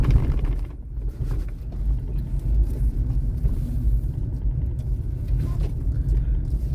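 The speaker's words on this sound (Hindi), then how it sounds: "अब मैं गाड़ी अभी अपने सोसाइटी के अंदर ही खड़ा करूंगा" Car engine rumbling steadily at low pitch while driving in through the gate of a residential housing society, a continuous close road-vehicle drone with no voices.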